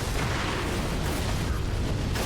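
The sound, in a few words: Firecracker prosthetic tool bursting in video game Sekiro: Shadows Die Twice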